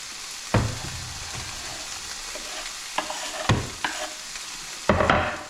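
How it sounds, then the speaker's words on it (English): Garlic and onions frying in a pan, a steady low sizzle with several sharp stirring clatters and scrapes spaced through it, close by and with no talk. "what I'm going to do now is pop in my garlic"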